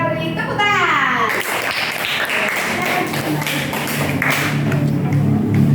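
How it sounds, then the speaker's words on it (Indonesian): Children in a classroom clap together after the last group presentation, a dense patter of small hands close by with a few kids' voices mixed in. "Kita beri tepuk tangan."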